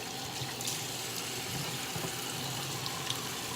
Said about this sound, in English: I'm just gonna wash my hands because I touched a sunscreen